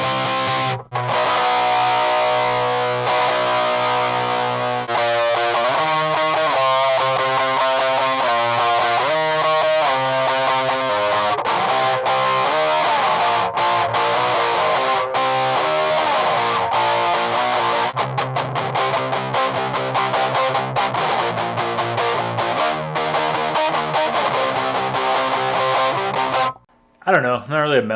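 Electric guitar played through a BOSS MT-2 Metal Zone distortion pedal, a steady saturated tone with chords and single-note riffs ringing continuously.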